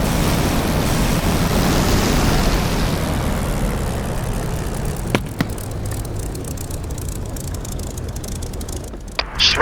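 A Spitfire's piston engine idles and rumbles steadily while the aircraft taxis in the DCS flight simulator, a loud continuous drone with a few faint clicks toward the end.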